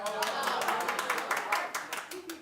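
A few scattered claps from a talk-show studio audience break out in uneven bursts while a host keeps talking over them.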